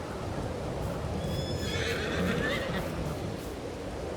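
Grey horses in the Farming Simulator 22 video game neigh with one drawn-out whinny over a steady bed of ambient farm noise, close and moderately loud.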